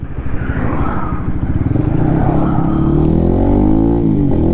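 A Lifan KPM 200 motorcycle fitted with a new exhaust runs steadily nearby, its engine note droning low and rising gradually as it accelerates, with no talk over it.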